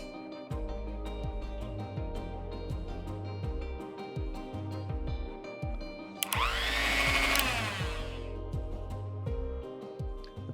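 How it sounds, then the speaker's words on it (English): A blender or mixie jar grinds cooked green peas with ice, a loud steady motor whir with repeated rhythmic clunks as chunks knock against the jar, then a brief higher whine midway before the grinding settles again. "Let's transfer this in a blender or a mixie jar."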